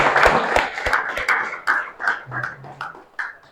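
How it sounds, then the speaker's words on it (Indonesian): A grade 7A class claps during a school algebra lesson: a short burst of loud, close claps in a brisk rhythm, which then gives way to scattered voices and a few lingering taps. "Tepuk tangan dulu semuanya."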